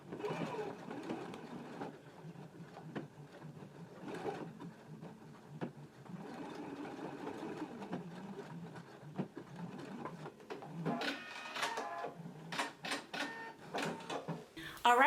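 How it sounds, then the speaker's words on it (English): A sewing machine stitching along the folded edge of jacket carriers, quiet intermittent whirring runs under soft background noise, with faster, louder bursts of stitching toward the end. "Then I'm going to take it to the machine. I'm going to stitch right along the folded edge of the carriers."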